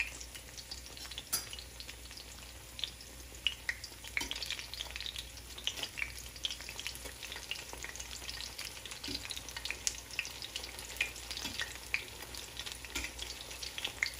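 Battered squash flowers and squash pieces frying in hot oil give a steady, close crackling sizzle with small pops throughout, with no talking.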